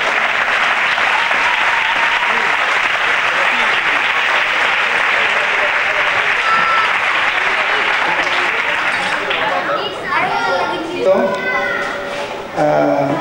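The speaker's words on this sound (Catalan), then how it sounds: "Un fort aplaudiment per un cop." Loud, sustained applause from a crowd at a community social event, a thick continuous roar of clapping that thins out toward the end as voices and a cheer or two break through.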